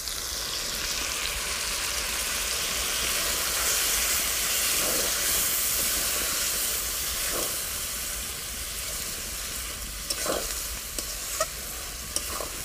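Ginger, garlic, tomato, cumin and coriander spice paste sautéing in a pan for a pumpkin chicken curry, a loud steady steamy hiss with occasional spatula scrapes and clinks toward the end.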